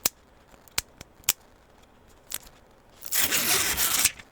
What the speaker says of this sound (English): So we're going to do the screen peel away. All right, for the back protector.